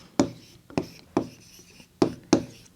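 Chalk or pen strokes during a Class 4 maths lesson on fractions, coming as five short scratchy bursts spaced irregularly, close and fairly quiet, with no talk over them.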